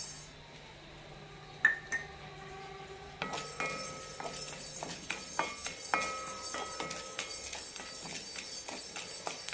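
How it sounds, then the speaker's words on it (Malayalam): Cumin seeds and black pepper dry-roast in a pan, with quiet stirring and sharp metallic clinks and taps of a spoon against the pan that come faster after a few seconds. "ഇനി ഇതിലേക്ക് 1/2 ടീസ്പൂൺ ജീരകവും കുരുമുളകും വറുത്തെടുക്കാം."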